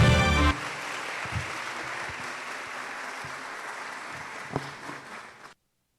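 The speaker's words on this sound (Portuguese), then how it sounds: "Aplausos!" Sustained applause from a symposium audience fills the hall at steady volume for several seconds, with a few sharper claps standing out before it fades away.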